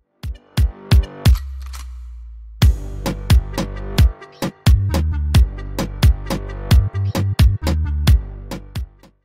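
An RKT beat with the snare hit placed slightly ahead of the beat, deep booming kicks and sharp snare cracks in a steady bouncing pattern, loud and dry, with a brief drop partway through before the groove returns.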